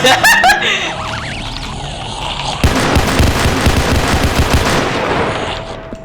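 Rapid gunfire in the Roblox game PARACAM, dense bursts of repeated shots filling most of the stretch after some brief game effects at the start, loud and continuous.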